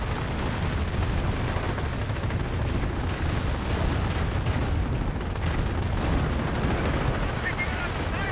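Anti-tank gun fire from an M1 AT gun in the video game Company of Heroes, heavy booming shots blending into a dense, continuous wash of battlefield gunfire and explosions, with a voice talking over it.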